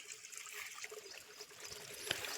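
Thin trickles of water seep and run from springs along a hillside near dense forest, a faint, continuous dribbling with a small splash near the end.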